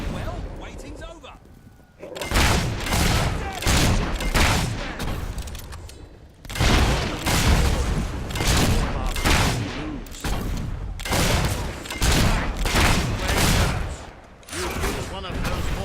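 Mortar and gunfire blasts from a battle in Fable III, a series of loud booms and bursts recurring every second or so across the whole stretch, mixed with game voices and combat noise.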